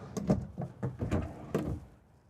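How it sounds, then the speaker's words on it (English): Several quick sliding thumps and knocks in a row as four RV drawers are pulled open one after another, fairly close, inside a Renegade Valencia 38RB motorhome. "start from the bottom really quick to kind of open up these 4 drawers"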